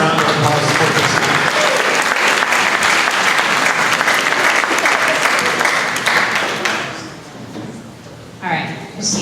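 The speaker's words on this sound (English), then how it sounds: "Round of applause for Christina." An audience at a goal-setting event applauds loudly and steadily for several seconds, then the clapping fades out and a voice begins speaking.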